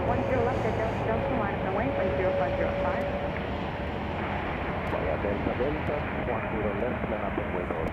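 An Austrian airliner climbs out after takeoff from Chicago O'Hare, its engines a broad, steady roar that stays even, with a voice talking over it.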